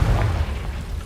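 The Confringo fire spell bursts in Hogwarts Legacy as a deep, rumbling explosion, booming loud at first and then rolling on with a heavy low roar.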